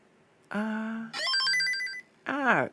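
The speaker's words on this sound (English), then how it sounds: "we're muting my phone. It's blowing up." A phone sounds off with incoming notification tones, a few bright pitched chimes in quick succession, fairly loud and alone with no talk over them.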